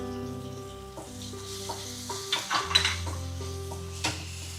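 Cooked jackfruit seeds and garam masala tipped into a frying pan for a Kerala jackfruit seed curry, giving a steady sizzle with spoon scrapes and clinks of metal on the pan, a few louder knocks midway.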